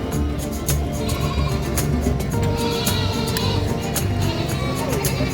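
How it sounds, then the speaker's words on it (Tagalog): Goats bleat repeatedly at a San Carlos City livestock market, several short calls near and far rising over a busy murmur of people talking and market noise. "dito yung pwesto ng mga kambing"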